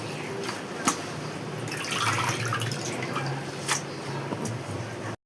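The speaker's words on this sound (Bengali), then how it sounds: "পাতা ভালোভাবে ধুয়ে নিচ্ছি।" Bitter gourd leaves are swished and rinsed in water by hand, producing a steady close wash of splashing and dripping with occasional small splats.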